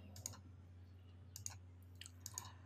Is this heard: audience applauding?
no